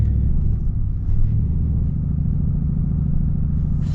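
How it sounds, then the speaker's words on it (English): A Hennessey Mammoth 400 Ram truck, built on a four-wheel-drive Laramie, sets off with a steady loud low engine rumble heard from inside, continuous and unbroken. "let us set off in this crazy Ram"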